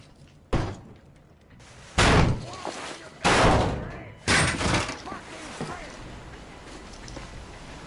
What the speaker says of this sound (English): The door's giving. Well, let's give it a shove,